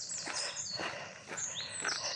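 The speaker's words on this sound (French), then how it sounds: "vous entendez les petits oiseaux toujours autour de moi" Small birds chirp and whistle in repeated high bursts beside the calm Moselle river, fairly faint and a little distant over a soft outdoor background.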